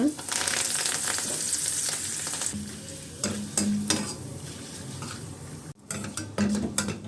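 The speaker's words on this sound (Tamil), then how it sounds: "இப்போ கருவேப்பிலையும் பொரிச்சாச்சு" Curry leaves crackle and sizzle hard in hot oil in a pan while spinach mixture is made, with a steady frying hiss, occasional spoon stirs and clinks against the pan, and no talking.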